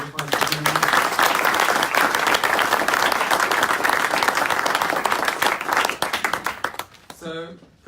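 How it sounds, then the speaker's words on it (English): Audience applause fills a football club announcement press conference, a dense, loud, sustained wash of clapping that runs for several seconds before tapering off as a voice begins to speak near the end. "Let's give him one more round of applause."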